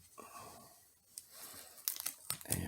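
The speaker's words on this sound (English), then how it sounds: "The next thing we do is take our tape off over here" Quiet rustling gives way to a few crisp ripping and crinkling bursts near the end, like tape peeled away close up.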